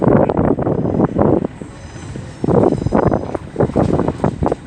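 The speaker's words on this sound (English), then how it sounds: "35261 leads with a service from London Euston to Crewe" A train arriving at Crewe station on a service from London Euston, heavy rhythmic clattering of wheels over rail joints, loud and close, with wind buffeting the microphone and a brief lull midway.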